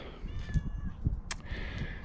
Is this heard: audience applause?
no